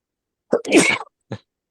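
A single sharp sneeze, close and loud, with a brief breathy intake before it and a short exhale after, otherwise silent.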